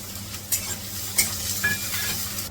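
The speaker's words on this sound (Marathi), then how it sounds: "इथे मी पहिला कांदा टाकते गॅस फास्ट केला आणि कढीपत्ता कांद्याच्या वरतून टाकते" Chopped onion and curry leaves hit hot oil over a high flame, a steady sizzle broken by a few sharp spoon clinks and stirring scrapes against the pan.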